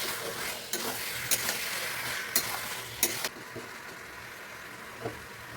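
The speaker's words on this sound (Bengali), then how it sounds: "এবার চিকেনটাকে ভালো করে কষিয়ে নেবো।" Chicken pieces being stir-fried in a pan for a Bengali chicken curry, with a steady close sizzle broken by several sharp scraping stirs of the spatula, then settling into a quieter fry.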